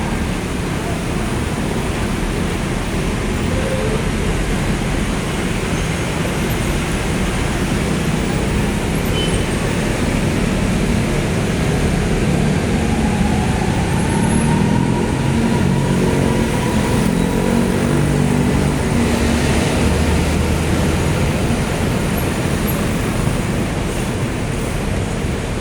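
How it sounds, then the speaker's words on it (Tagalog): Morning road traffic flows near the Guadalupe bridge, a dense continuous roar of passing vehicles that rises and falls slightly without pause and stays loud throughout. "traffic, umaga pa lang."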